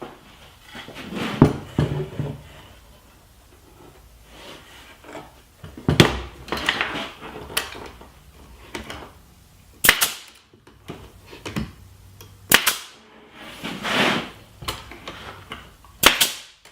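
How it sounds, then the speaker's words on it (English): A hammer drives nails into wood bracing pieces glued to a ping pong table apron, giving scattered sharp knocks a few seconds apart amid quieter handling sounds. "these pieces will be glued and nailed to the apron"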